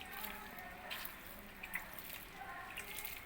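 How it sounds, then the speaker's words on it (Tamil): Water sprinkled by hand over a freshly planted rose cutting, a steady soft patter and trickle of droplets on soil and leaves, close and even throughout, with no voices. "இப்போ மேலே நம்ம தண்ணி தெளித்து விட்டுக்கலாம்."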